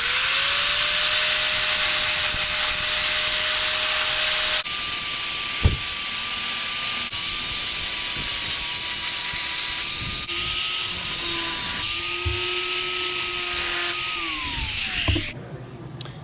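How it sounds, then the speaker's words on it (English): Grinding wheel on metal, a loud continuous high-pitched whine with a steady hissing rasp, close, holding pitch with small shifts as pressure changes before spinning down near the end; no talk. "I'm using a grinding wheel versus sanding discs because I can grind with the nose more easily"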